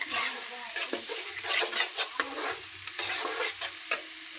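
Masala fries in oil for keema as a spoon scrapes and stirs against the pan in quick, repeated strokes over a constant close sizzle.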